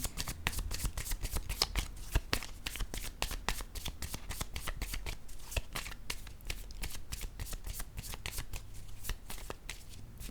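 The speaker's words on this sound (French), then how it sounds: "Je vais piger une carte. Je vais la déposer de ce côté." Playing cards drawn from a deck and laid down in a rapid run of crisp flicks and soft slaps, close and steady throughout, with no talk over them.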